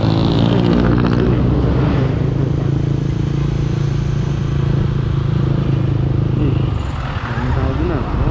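A brand-new Honda Supra GTR motorcycle being ridden during break-in, with a loud, steady low engine drone and rushing road noise throughout that dips briefly near the end.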